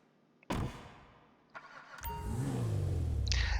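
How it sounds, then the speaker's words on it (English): A Corvette ZR1 engine starts in GTA, with a sharp crank burst followed by a second catch, then a steady high-pitched supercar idle that rises and holds, close and loud with no talk. "just listen to the engine start."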